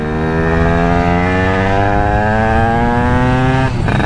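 A modified Derbi 100cc motorcycle engine screams at high revs, loud and close, its harsh buzzing tone climbing steadily before dropping off abruptly near the end.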